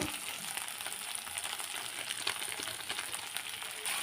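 Spices with a little chilli powder fry in oil for a soybean and potato curry, an even, continuous sizzling hiss at low-moderate volume with faint stirring underneath.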